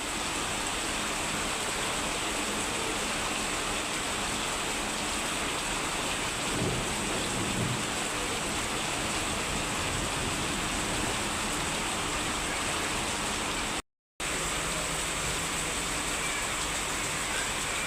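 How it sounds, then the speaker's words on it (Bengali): Heavy, steady rain pours down continuously, with a low rumble of thunder rolling in the background partway through. "প্রচুর বৃষ্টি পড়তেছে প্রচুর এগারোটার থেকে শুরু করছে"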